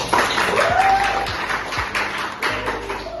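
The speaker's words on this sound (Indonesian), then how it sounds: "Tepuk tangan" Scattered clapping in a classroom, a few hands tapping irregularly at moderate volume over a brief electronic whistle and room noise.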